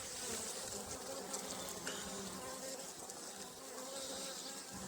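Honey bees hum in a dense, continuous buzz at an open beehive during spring apiary maintenance, close and steady throughout with no voices.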